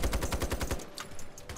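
Rapid bursts of SG553 rifle fire in the shooter game Ironsight, a tight run of about eight loud close shots in the first second, then scattered fainter distant gunfire.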